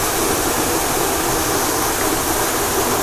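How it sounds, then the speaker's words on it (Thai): Waterfall at Lub Mueang in Tao Ngoi, Sakon Nakhon, Thailand, pours in a loud, steady, close roar of rushing water with no break. "น้ำตกก็สวยมากๆนะครับ"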